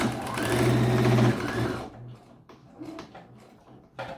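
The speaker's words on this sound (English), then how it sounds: "I will start my sewing or back stitch" A sewing machine runs steadily for about two seconds, back stitching along the sleeve of a simple gown, then stops and leaves faint handling clicks and rustles. The stitching is loud and close.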